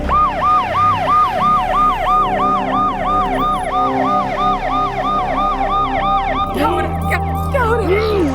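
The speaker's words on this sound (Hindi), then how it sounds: "एम्बुलेंस बुलाओ" An ambulance siren wails in a steady, repeating up-and-down cycle, loud and close, with road traffic rumbling underneath; near the end the pattern changes to a faster, shifting yelp.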